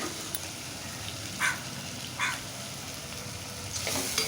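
Onions and tomatoes sauté in oil in a pan for a mutton and drumstick curry, giving a faint, steady sizzle broken by a few soft stirring scrapes, with no talking.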